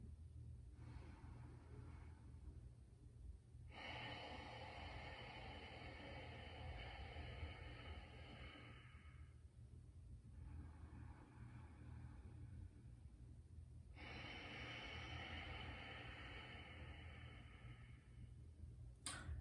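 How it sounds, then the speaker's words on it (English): Ujjayi breathing through the nose with the mouth closed during yoga practice: two long, soft, hissing breath cycles, each an inhale and exhale of several seconds, close but faint, with quiet pauses between and no talking. "Ujjayi breathing is just done in and out through the nose."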